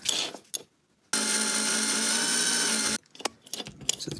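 A small power drill whirs steadily for about two seconds, drilling slowly into a Hot Wheels Redline McLaren M6A toy car, framed by brief clicks and handling noises before and after.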